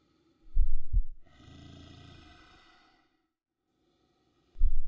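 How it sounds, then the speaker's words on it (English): Heartbeat sound effect, a pair of low thumps followed by a soft breathy swell, then another deep thump, heard alone in quiet. "A thump. It is no longer a bear's heartbeat. It is the earth's heartbeat."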